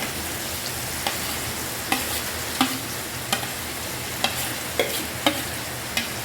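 Onion and green chili fry in a pan under a constant sizzle, with about nine sharp spatula scrapes and taps at an uneven rhythm, close and clear.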